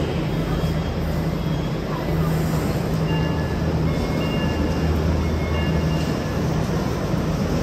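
Steady low rumble and rattle of a moving metro train in Gurgaon, continuous interior noise with faint tonal whines, no clear speech.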